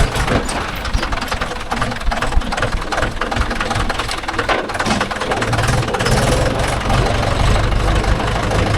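Mahindra 575 DI tractor with an old-model gearbox, pulling a 9-tine cultivator in a dry field, runs with a loud, steady, rough engine drone throughout, and voices are faintly audible beneath it.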